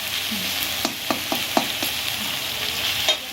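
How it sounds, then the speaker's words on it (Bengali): Onions frying in a pan sizzle steadily and close up, with several sharp scrapes from stirring scattered throughout and no talking. "পেঁয়াজটা একটু ভাজা করবেন, একটু লাল লাল করে ভাজবেন।"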